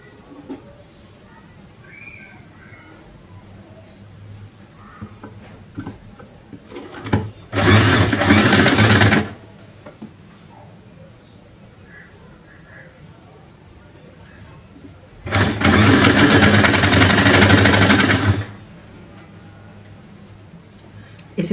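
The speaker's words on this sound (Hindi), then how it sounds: "अब हम इनको उल्टा करके यहाँ पे इसको सिलाई लगा देंगे।" Sewing machine stitching a coat collar, two close bursts of rapid, even whirring run about two and three seconds each, separated by quiet handling and faint talk.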